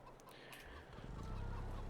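Chickens clucking in a farming survival video game, a brief, faint burst of soft clucks over low background ambience.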